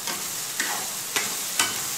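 Spices temper in hot oil for ridge gourd chutney, giving a steady soft sizzle with three or four sharp crackling pops spaced through it, close and fairly quiet.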